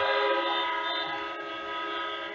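Air horns blare at a college football stadium during a game, a loud, sustained, chord-like honk that holds steady and fills the whole stretch, with no talking.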